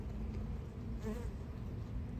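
Honey bees on a hive frame make a dense, steady buzz that stays at a fairly loud level throughout, with one bee's whine briefly rising close by.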